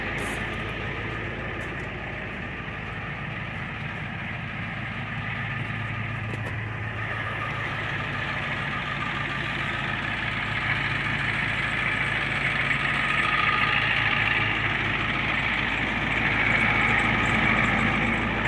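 A 1994 Ford E350 van's 7.3 diesel engine idles indoors with a steady low rumble and faint clatter, close and continuous, slightly rising toward the end, with no talking.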